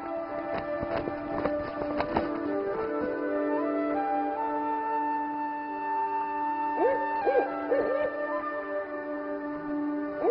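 Great grey owls hooting in the wild, a series of deep resonant hoots with harmonic tones, some rising and falling calls near the end, clear and fairly close over a quiet background.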